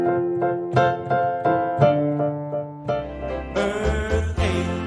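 Piano plays a chord progression, slow rhythmic chords struck one after another, close and clear with a fuller low bass entering midway.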